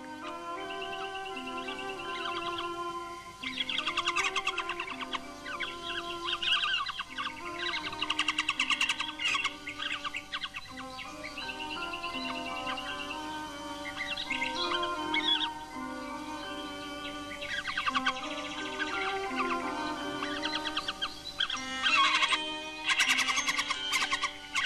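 A blackbird sings in Iberian woodland, a continuous run of fluting phrases and chirps, moderately close and fairly quiet, with other faint bird calls mixed in and no talking.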